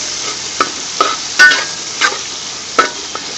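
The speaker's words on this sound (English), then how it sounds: "let's saute this for some time" Onions, green chilies, cloves, cinnamon and cardamom sauté in oil for prawn pulao, a soft steady sizzle punctuated by several distinct spoon-against-pan stirring clinks.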